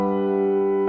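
Piano fill played over the five chord, with a sustained, resonant chord ringing clearly and evenly for under a second, alone and close.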